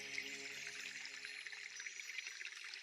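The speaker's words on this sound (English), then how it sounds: "you are listening to the sound of the waterfall as it cascades onto the pond" Water from a small waterfall cascades steadily onto a pond edged with tall bulrushes, a continuous soft hiss and patter with no pauses, fairly quiet.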